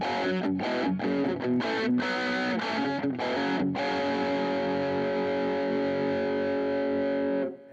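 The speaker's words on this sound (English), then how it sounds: "Here's an in-between sound, sort of a classic rock sound with a little bit of distortion" Electric guitar through a Peavey Nano Vypyr portable modeling amp set to a classic rock tone with mild distortion: a quick run of picked notes and chords, then a sustained ringing chord fading out, loud and alone.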